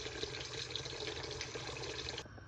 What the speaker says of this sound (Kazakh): Осылай су бататындай қылып су толтырып аламыз.